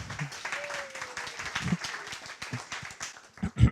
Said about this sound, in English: Please give him some applause.